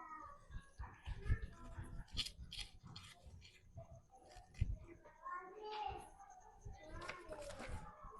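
Pet cat meowing several times at close range, mixed in with people talking and soft handling noises.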